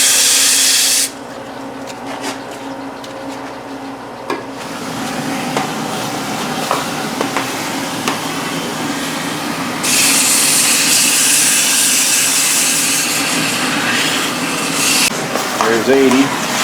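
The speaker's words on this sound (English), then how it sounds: "I'm just going to start out with some 80 grit sandpaper." Hand sanding of sycamore wood with 80 grit sandpaper, a steady close scratchy rubbing that continues throughout, growing brighter in the second half, with faint background sounds.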